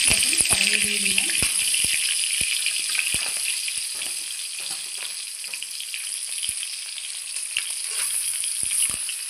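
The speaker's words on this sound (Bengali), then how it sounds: "ভালো করে মেখে নিয়েছি, ভেজে নেব এখন। দেখুন কড়াইয়ে দিয়ে দিলাম।" A katla fish head fries in hot oil in a wok, giving a constant bright sizzle broken by scattered sharp clicks and rattles, with a brief voice near the start.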